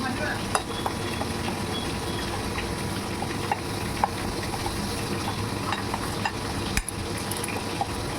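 Spice masala for katla fish fry is worked together by hand, giving a close, busy rustle and squish with scattered small clicks and taps against the bowl, fairly quiet and with no one talking.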